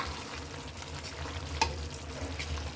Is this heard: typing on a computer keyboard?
no